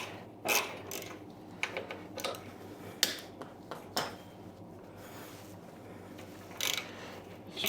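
A quarter-inch Allen wrench breaks loose the fender bolts on a Harley-Davidson, giving faint, sparse metallic ticks and clicks at close range in a quiet room.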